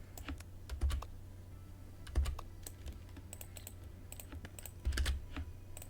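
Rapid bursts of computer mouse clicking come in three clusters with scattered single clicks between, close and fairly quiet, with no talking.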